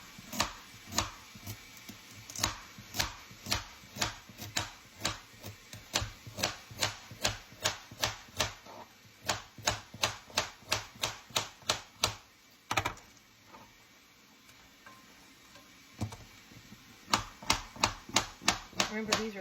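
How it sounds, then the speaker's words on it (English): A knife chops through large carrots on a cutting board, a long run of crisp, evenly spaced knocks with one short pause, close and clear, while a cook talks over it. "I'm going to start cutting up these carrots in here."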